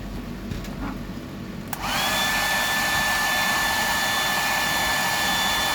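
A heat gun or hair dryer is switched on to heat a fly-tying pattern. After a quiet start with faint handling, a loud steady blowing whine begins and runs unbroken to the end.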